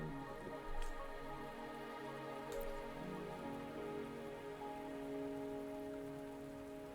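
Steady rain falling in the video game Wuthering Waves, a dense continuous patter on surfaces with no voices, mixed with a soft sustained musical drone.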